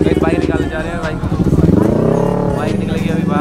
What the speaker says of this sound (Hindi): बाइक निकलेगी अभी भाई बाहर।